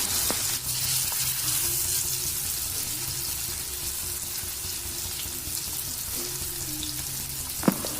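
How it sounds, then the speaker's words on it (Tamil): Vanjaram fish pieces fry in hot oil over a medium flame, a steady broadband sizzle running throughout with faint bubbling and one sharp clink near the end; no one speaks. "எண்ணெய் ஹீட் ஆனோடனே ஒவ்வொரு துண்டுகளாக எடுத்து நம்ம இப்போ ஃப்ரை பண்ணிக்கலாம்."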